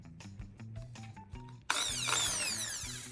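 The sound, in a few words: power drill boring a hole through a wooden dowel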